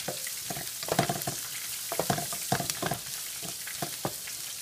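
Chopped onion seasoned with salt and pepper fries in a pan and is stirred, a steady soft sizzle broken by irregular scraping and clinking strokes from the spoon, close and with no talking.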